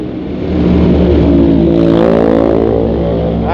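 A Yamaha Mio Sporty scooter engine holds a loud, steady drone at top speed of about 100 km/h, with a close, strained hum and rushing wind throughout.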